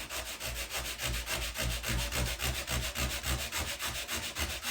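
A bath chip repair being wet sanded by hand, with rhythmic back-and-forth rubbing strokes, close and fairly quiet, about two strokes per second with no talk.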